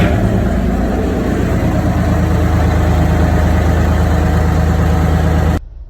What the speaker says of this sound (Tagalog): Susubukan naman natin ang propeller in ahead position.